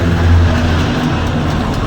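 Army vehicle passing on a road, a loud close rumbling engine roar with low tonal drone, steady and continuous over a short stretch.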